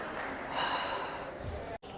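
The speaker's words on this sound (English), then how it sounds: "Inhale from your mouth, exhale from your nose." A long, deep breath drawn in and pushed out during a breathing exercise at a badminton footwork coaching session, loud, airy and close, with a sharp cut near the end.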